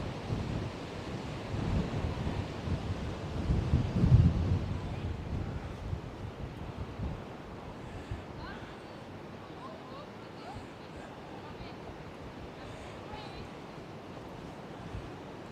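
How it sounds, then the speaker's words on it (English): Strong wind buffets the microphone at the seaside in Blackpool, a loud roaring rush with surf beneath, gusting hardest early on and then easing to a steady blow. "The wind is so impressive."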